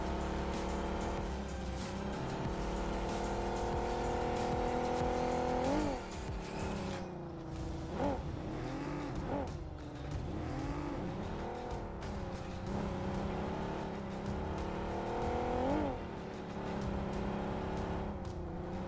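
A vehicle driven in PUBG Mobile, its engine droning loudly and continuously with rising and falling revs as it accelerates and shifts, tires occasionally squealing, with no talk over it.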